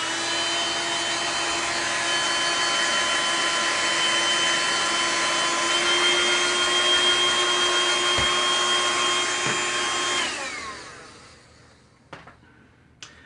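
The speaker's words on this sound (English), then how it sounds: "what I'd like to do as well is just take a blow dryer on gentle heat" A blow dryer on gentle heat runs steadily while drying cleaned parts from a restored vintage Hewlett Packard E2373A multimeter, a loud continuous whir for about ten seconds that then cuts off, followed by a couple of faint clicks.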